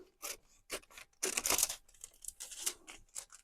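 Scissors cutting the cellophane window out of an old envelope: a quick series of crisp snips and crinkles, close and fairly loud, with one longer rustling burst in the middle.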